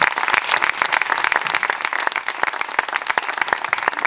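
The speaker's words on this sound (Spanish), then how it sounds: "Un aplauso para Javier," Audience applauding Javier at a book presentation about LGBTI dissidents under Franco, with crisp, close individual claps layered over a steady wash of clapping.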